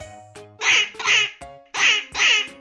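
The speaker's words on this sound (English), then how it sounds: "Quack, quack. Splash in the pond." Duck quacking in four loud, close, nasal quacks, with short sharp pops between some calls, heard alone in a clear, even rhythm.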